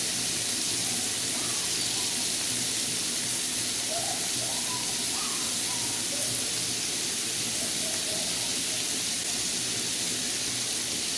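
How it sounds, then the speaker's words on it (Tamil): Onions and green chillies sautéing in a pan give a steady, soft sizzling hiss that runs unbroken throughout, moderately close with no talk over it. "இது வெங்காயம் பச்சை மிளகா இதில் வதங்கின்னு இருக்குது, வதங்குது"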